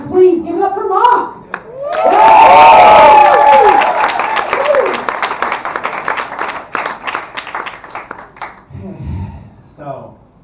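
Beginner stand-up comedy show crowd in Berlin bursts into loud cheering and whooping, then sustained clapping that thins out and fades, with talk before and after.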